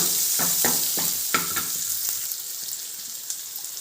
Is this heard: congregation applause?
no